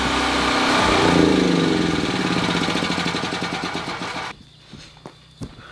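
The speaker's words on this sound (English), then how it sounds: "let me just turn this super annoying generator off" Generator drones loud and close with a rough knocking mid-pitched chug, then cuts out abruptly near the end, leaving a few faint knocks and thuds.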